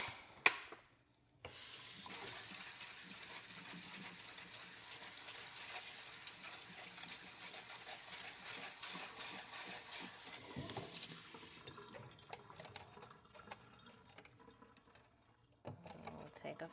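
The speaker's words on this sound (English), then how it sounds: "I'll go ahead and wash the strawberries." Kitchen tap water runs in a steady, fairly quiet gush while strawberries are washed under it, with a few clanks at the start and a pause near the end.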